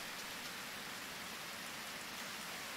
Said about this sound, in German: Ja, das regnet mir jetzt schon den 3. Tag